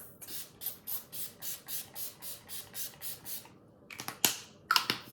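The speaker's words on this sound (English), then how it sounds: "I just always spray my face first with the Quick Fix." Quick Fix face mist sprayed onto the face in a steady series of about ten short, even hissing bursts, close and alone, followed by a few sharper clicks and rustles.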